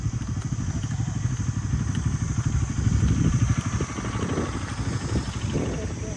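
Yamaha R15 motorcycle running on a rough forest trail, a loud, steady low engine rumble with rattling and crackle throughout, close by, with voices talking over it.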